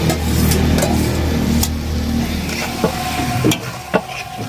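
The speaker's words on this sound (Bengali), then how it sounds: "এই টমেটো কুচিটা এবার আমি দিয়ে দেবো, এবং লঙ্কা কুচিটাও আমি দিয়ে দেবো।" Chopped tomato and green chili go into a hot frying pan for paneer biryani, giving a steady close sizzle with scraping stir strokes and a few sharp clinks of the spatula against the pan, with no voices.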